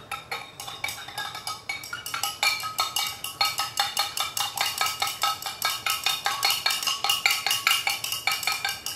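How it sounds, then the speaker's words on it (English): A homemade face toner mixture is stirred briskly in a container, a steady rapid run of light clinking taps that carries on close and even throughout, with no talking. "Just give it a good stir."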